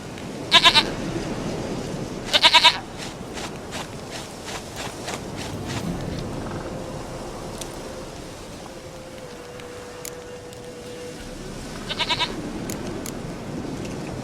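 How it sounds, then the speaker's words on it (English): A goat bleats in The Witcher 3 video game: two sharp, loud bleats close together near the start and one more near the end, over a soft outdoor ambience with faint steps and a low tone in between. "goat of mine, dearest, sweetest goat"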